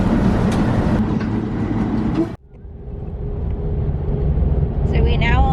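A long Pacific National freight train rumbles past close by in Esperance. Loud wheel and carriage noise breaks off sharply midway, leaving a lower steady rumble with squealing tones near the end.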